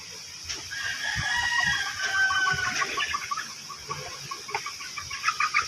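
Two Shamo chickens cluck repeatedly and a rooster crows, all heard at moderate distance outdoors, with scattered short clucks filling the gaps.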